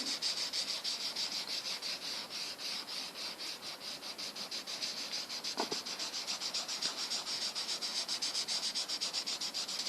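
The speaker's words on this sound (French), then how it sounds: "Donc avec le doigt, j'estompe." A fingertip rubs steadily back and forth over soft pastel on paper, blending yellow into blue, a close, continuous scratchy swishing with an even rhythm throughout.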